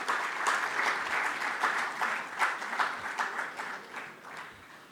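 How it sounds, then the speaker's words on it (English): A crowd applauds at an award ceremony for a foundation day event, with many hands clapping in a bright, rapid patter that stays full for several seconds and then gradually thins. "Let's hear another round of applause, ladies and gentlemen."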